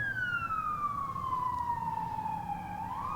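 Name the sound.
sirens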